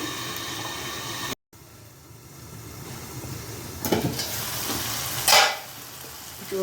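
Mint and tomato chutney simmering on low heat in a pan while being stirred, a steady bubbling sizzle with louder scraping stir strokes toward the end, no voices.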